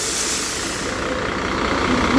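Cement truck engine, a loud steady diesel rumble with hissing noise, close and continuous for a short moment.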